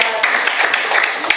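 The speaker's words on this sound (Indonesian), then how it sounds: "Sekali lagi tepuk tangan." A short burst of scattered hand clapping from a classroom group of students, quick uneven claps close by with faint voices.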